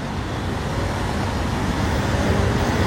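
Aston Martin DBS, a car with wheels matched to its body colour, driving past in Paris street traffic, a steady broadband road rumble with engine and tyre noise, fairly close and continuous throughout.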